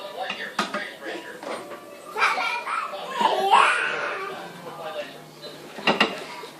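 Browned minced meat for lasagne is spooned into an ungreased dish, giving soft wet plops and a few scrapes and clinks of utensil against the container, with voices murmuring in the background.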